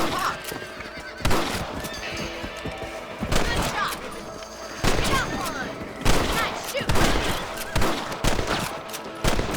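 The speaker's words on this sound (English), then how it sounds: "Let's see that rifle." Sharp rifle gunshots ring out in the Red Dead Redemption video game, several loud cracks at irregular intervals mixed with horse whinnies and faint game sounds.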